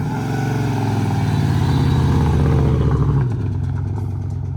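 A 406 stroker Mopar crate V8 in a turbocharged police car revs hard and loud with a deep, throaty roar, holding high then dropping back to a lumpy rumble near the end.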